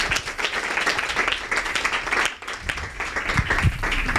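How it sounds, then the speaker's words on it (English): An audience at a parish faith-formation talk on a mental health support space gives a round of applause. Close, uneven clapping rises and dips throughout, with a short lull in the middle. "let's have a round of applause"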